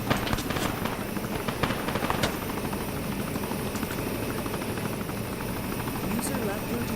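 A helicopter in a military video game, its rotor chopping in a steady rhythmic thump across the whole stretch, with scattered sharp pops and people talking over it.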